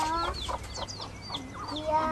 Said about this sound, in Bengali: মুরগি বাচ্চা দেখতে পাচ্ছ